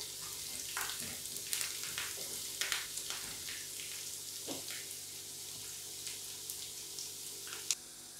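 Curry leaves crackling and sizzling in hot oil in a pan for a prawn and drumstick curry, a steady fry with scattered sharp pops, close and moderately quiet.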